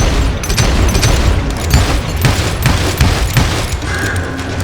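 Dense gunfire from the Western shooter game Call of Juarez Gunslinger, a loud continuous fusillade of overlapping shots and booms with no clear gaps between them.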